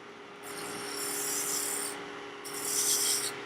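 A woodturning gouge cuts the end grain of a wooden lidded box spinning on a lathe. Two swells of dry, rasping cutting noise rise over a steady motor hum, with a short lull between them.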